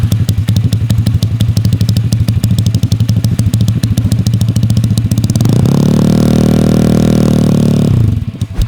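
Piaggio Zip scooter modified to 21 hp, fitted with a locally made R9 aftermarket exhaust: a close, loud, rapidly pulsing idle that swells into a sustained, smooth high rev for a few seconds before cutting off.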